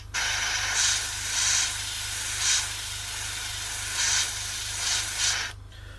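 An airbrush sprays acrylic paint as a fine mist over a Bandai A-wing model kit, making a steady close hiss that swells in several short bursts before cutting off abruptly near the end, with a low hum underneath.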